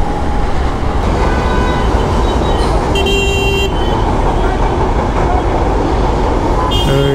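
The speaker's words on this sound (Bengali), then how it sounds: "এই যে ট্রেন যাচ্ছে, কি ট্রেন জানি না, তবে যাচ্ছে কিছু একটা ট্রেন।" A train rolls past near a busy roadside, a loud, continuous rumble and clatter that fills the whole stretch, with a brief horn-like toot partway through.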